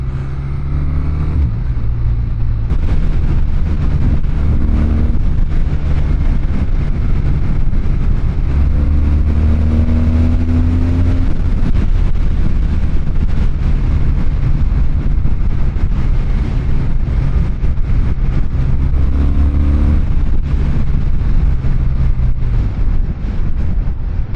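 A BMW R12 motorcycle's two-cylinder boxer engine cruises on a highway, with a loud, continuous drone of engine and wind noise and brief shifts in pitch as it accelerates, and no talking.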